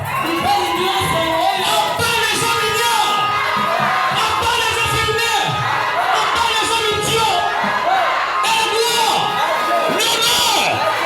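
A church congregation cheers and acclaims, a loud, continuous mass of shouts, whoops and cheering voices filling the space.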